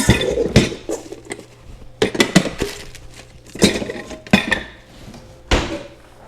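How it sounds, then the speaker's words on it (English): Ceramic and glass dishes clink and clatter while a bowl is pulled out in a home kitchen during fish frying prep, several separate sharp knocks and rattles close by with short quiet gaps between them. "I'm going to get a bowl to put those in."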